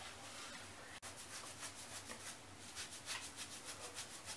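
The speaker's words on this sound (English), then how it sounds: "Using my fingernails and fingertips, I'm scrubbing my scalp." Fingernails and fingertips scrub a scalp of natural hair during a shampoo, making a soft, steady, close rubbing and scratching that continues without a break, with no talking.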